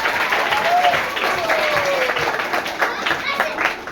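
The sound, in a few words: audience applause for a quiz contestant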